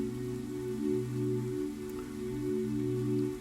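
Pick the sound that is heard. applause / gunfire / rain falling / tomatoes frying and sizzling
rain falling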